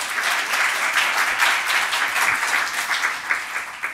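An audience at a panel event on accessible education technology applauds, a dense, sustained burst of many hands clapping at a steady level for several seconds.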